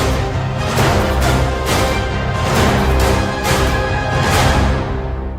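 Full orchestral strings swell in a lush, steady passage, loud and continuous with gentle rises in intensity, and no voices.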